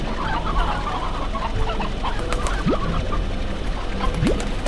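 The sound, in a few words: chickens clucking in the video game Slime Rancher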